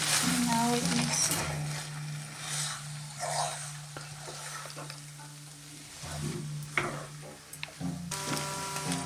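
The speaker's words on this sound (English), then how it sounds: "now we're gonna give it a final stir" Drunken pork noodles with basil are tossed and stirred in a hot pan, with a steady sizzle and frying hiss broken by scraping and clinking strokes of the utensil. The sound is close and continuous, with no talking.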